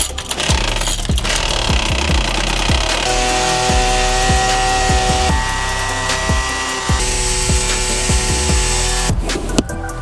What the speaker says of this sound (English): I'm going to use my leaf blower.